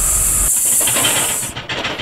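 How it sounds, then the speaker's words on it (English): A loud, steady hiss of escaping air or steam, a truck-breakdown sound effect, runs for about a second and a half, then cuts off abruptly into scattered clattering. "the truck breaks down"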